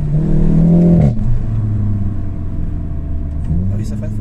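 A Volkswagen Golf GTI engine revs loudly, the pitch climbing and then dropping sharply about a second in. A steady engine drone follows, with people talking over it.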